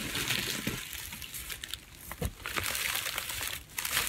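Continuous crinkling and rustling of hot pink tissue paper, close up, with occasional crisper crackles as it is handled and folded.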